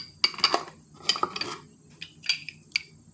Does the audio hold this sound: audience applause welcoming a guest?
no